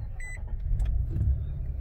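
A 2023 Nissan Frontier Pro-4X pickup truck idles with a steady low engine rumble just after starting up, accompanied by a couple of short, high electronic beeps.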